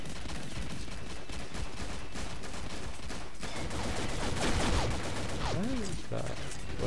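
Steady rapid gunfire in the online shooter Combat Arms, with automatic bursts rattling continuously under loud, dense game noise and a couple of sweeping electronic tones near the end.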